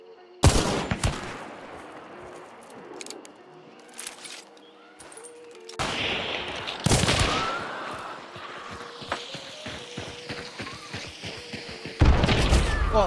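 Explosions and gunfire from a frag bomb in the Hunt: Showdown video game, with loud blasts near the start, middle and end, and scattered shots between, under faint talk.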